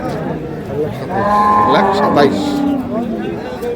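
A dairy cow moos loudly nearby at a cattle market, one long low call, while people chatter in the busy background.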